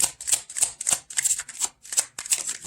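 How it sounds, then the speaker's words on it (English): Tarot deck being shuffled and drawn by hand, a close run of crisp riffling flutters and soft card slaps in quick irregular bursts, with no talking. "Let's get some more cards here."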